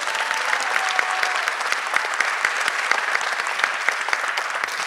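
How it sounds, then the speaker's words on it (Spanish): An audience claps loudly and steadily at a book presentation event, with dense, sustained applause filling the room for the full five seconds. "Reciba con un fuerte aplauso,"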